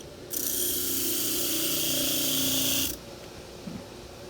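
A Warrior 5-inch crimped wire wheel on a power tool whines and scrubs against a metal wrench for about two and a half seconds, loud and close, then stops abruptly into quiet.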